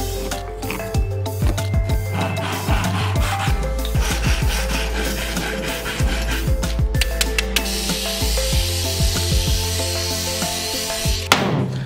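A wooden plank is smoothed by hand with a rasp or sandpaper in steady, rhythmic back-and-forth scraping strokes, close and continuous over a constant low hum, with no talking.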